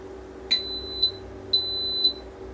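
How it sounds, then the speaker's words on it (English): Four sharp, high-pitched electronic beeps from an Instant Pot electric pressure cooker sound in two pairs, close and clear, over a faint low hum with no talking. "probably it's going to say 8 and it will start beeping."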